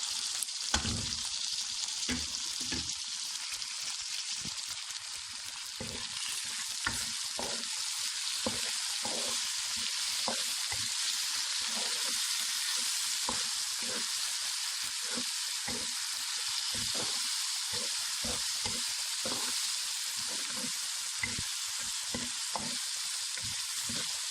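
Spices fry in a pan with tomato for a Rajasthani chickpea and potato curry, a constant bright hiss with frequent soft scraping stirs throughout.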